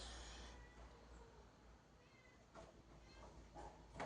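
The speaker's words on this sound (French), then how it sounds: "Voilà, elle miaule, elle est dehors, elle miaule." A pregnant cat meows softly outdoors, making a few faint, short calls late in the moment over a hushed background hiss.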